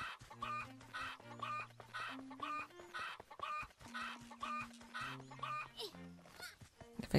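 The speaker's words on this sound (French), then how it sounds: "J'ai trouvé les cocottes." Chickens clucking in the video game Zelda: Echoes of Wisdom, short repeated clucks layered over steady background game music for about seven seconds.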